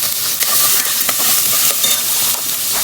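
Washed dried fish frying in a hot pan with chopped garlic and onion, a loud steady sizzle and hiss with occasional stirring scrapes and crackles, close up and without any talking.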